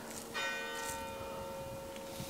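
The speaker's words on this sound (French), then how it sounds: "c'est le gong qui nous dit on est en retard" A bell chime rings out sharply with a clear metallic strike, then its tonal ring sustains and slowly decays, fairly near and moderately loud over a low background.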